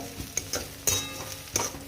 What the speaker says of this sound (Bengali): দেখো পুঁইয়ের ফল ভাজা হচ্ছে